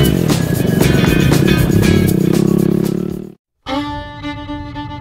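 Racing lawn mower engines roar loud and close in a continuous rough drone, cut off abruptly by a brief silence before a higher, buzzing engine tone resumes.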